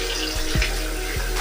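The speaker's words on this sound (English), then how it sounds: "You should ensure that you are using running water" Running tap water splashes over hands being wet for handwashing, a steady gushing stream broken by a few brief louder splashes as the hands move under the flow.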